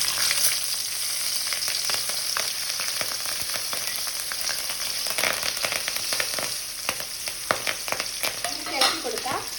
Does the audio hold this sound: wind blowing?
no